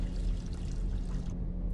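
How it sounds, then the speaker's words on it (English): Toilet flushing in a video game, a steady rushing gush of water that runs for over a second and then cuts off, leaving only a faint tail and a soft high click. "Can we flush it? Let's flush it."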